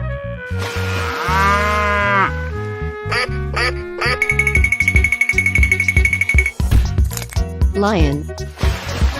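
A cow moos within a dense, loud mix of animated animal sound effects, quacks and music, the low call standing out briefly among clattering layers.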